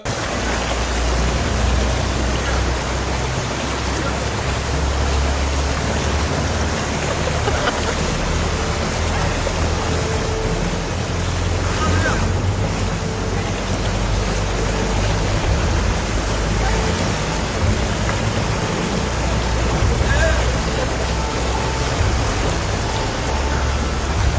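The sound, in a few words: river overflowing its bund after heavy rain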